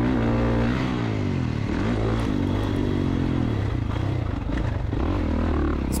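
A 2024 Kawasaki KX450 dirt bike engine revs loud and close on a sandy High Desert MX motocross track, its pitch rising and falling as the throttle and clutch work, with wind rush and clatter.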